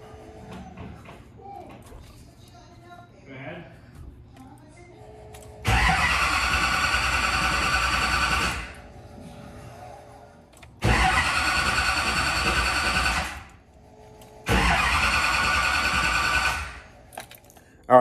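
A freshly rebuilt car engine is cranked in three separate attempts, each a loud, steady starter whir lasting a few seconds, with short quiet gaps and faint background activity between them.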